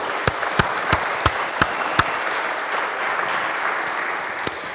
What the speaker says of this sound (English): A big applause to our team.